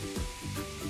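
Matchstick-cut potatoes frying in hot oil for a schnitzel dish, giving a steady, dense sizzle with soft bubbling and faint stirring, close by and without talk.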